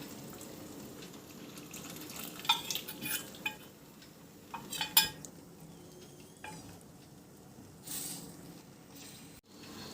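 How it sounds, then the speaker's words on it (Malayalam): A cornflour mix goes into boiling chicken stock for a hot and spicy chicken soup, with soft liquid stirring, splashes and scattered spoon clinks against the pot under a faint kitchen background. "ഇനി ഇതിലേക്ക് കോൺഫ്ലവർ മിക്സ് ചെയ്ത് വെച്ചിരിക്കുന്നത് ആഡ് ചെയ്ത് കൊടുക്കാം"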